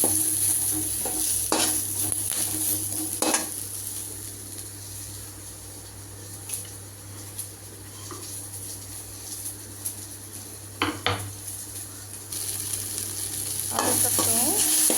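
Onion, garlic and green chillies sauté in a pan for vallarai keerai chutney, a steady sizzle over a low hum, broken by several sharp spatula scrapes and clinks at irregular moments, with no voices.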